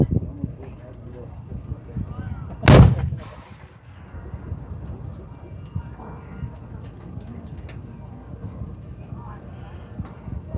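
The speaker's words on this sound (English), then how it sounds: "After 2 hours of bombardment, approximately 3 p.m., as the fire slackens and the smoke drifts off the field" A re-enactment artillery cannon at a Battle of Gettysburg anniversary event fires one loud, deep boom partway through, set against a continuous outdoor murmur and wind.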